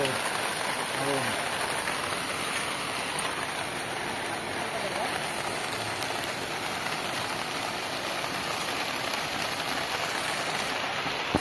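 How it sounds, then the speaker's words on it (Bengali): Steady, even hiss of rain falling continuously, a dense wash of drops close by with no pauses from start to finish. "দেখছো পেছন দিকে জল তো বৃষ্টি হচ্ছে"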